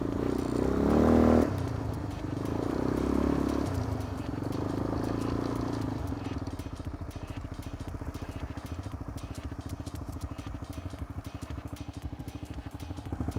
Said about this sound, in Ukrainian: Перегазовку треба зробити. Перегазовочку.